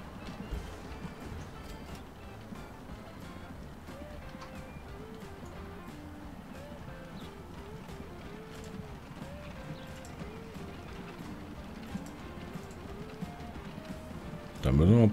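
Horse-drawn carriages clip-clop in the Transport Fever video game, a soft continuous hoof patter at moderate distance with faint neighing tones, rising sharply at the very end.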